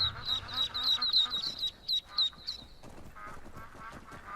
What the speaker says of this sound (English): There seems to be a family of ducks down here.